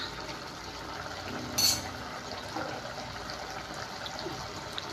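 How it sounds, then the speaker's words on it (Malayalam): First coconut milk is poured into a simmering Kerala-style mango and bitter gourd curry, giving a steady, soft liquid wash with a brief sharp clink near the middle and no voices. "ഇനി ഇതിലേക്ക് നമുക്ക് ആദ്യത്തെ പാല് ചേർത്ത് കൊടുക്കാം"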